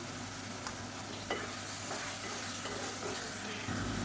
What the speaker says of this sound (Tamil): இப்போ தயிர் சேர்த்து நல்லா வதக்கியாச்சு.